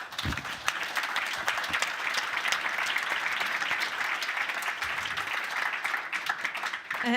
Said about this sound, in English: So I would like a round of applause for panelists.